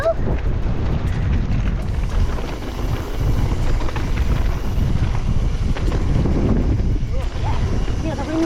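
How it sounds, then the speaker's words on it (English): Strong wind buffeting the microphone on an exposed mountain edge at a mountain bike trail centre, a loud continuous low roar with gusty swells and no speech. "Yeah, feel the wind"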